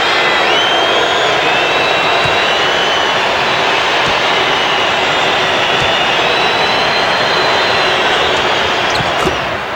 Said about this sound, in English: That's the best way to silence a noisy crowd that's behind the basket.